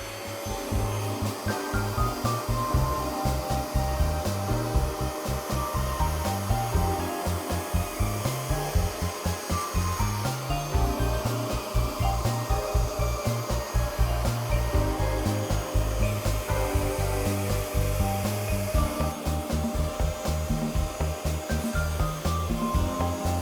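A vacuum cleaner sucking dirt out of a scrubbed couch, a loud, steady drone that holds without a break for over twenty seconds, close up with no voices.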